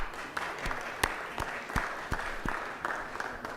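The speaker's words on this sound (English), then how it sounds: "please join me in giving them a round of applause." An audience applauding steadily in a legislative chamber, dense clapping with a few louder individual claps standing out, moderately distant.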